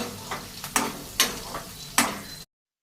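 A chicken curry mixture stirred in a pan, with several distinct scraping strokes at an uneven pace over a low sizzle, ending in sudden silence.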